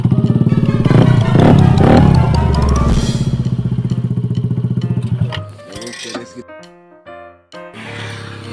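A Yamaha Aerox motorcycle engine runs loud and close with a fast, even throb, then cuts back to a rougher, sputtering idle with clattering pauses.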